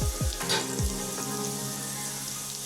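A cup of onions frying in a pan with green chillies for mushroom pulao, a dense loud sizzle with a few quick low thumps and scrapes at the start, close and continuous without talk.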